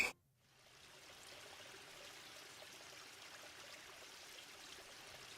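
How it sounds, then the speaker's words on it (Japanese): Quiet, continuous trickle of running water inside an office in a video game, a soft steady stream heard alone after a brief sharp onset, faint and even throughout. "The sound of running water wakes me up."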